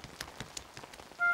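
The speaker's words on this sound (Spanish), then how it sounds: "Hoy está lloviendo un poco." Cartoon rain sound effect from a children's animated show: a steady patter of light drops with regular soft taps, followed by a brief tonal chime near the end.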